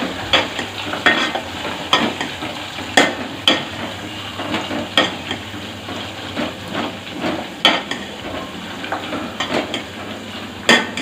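Dried red chillies fry in a pan with a steady low sizzle, while a spoon scrapes and knocks against the metal in a rhythmic series of stirring strokes, close and alone.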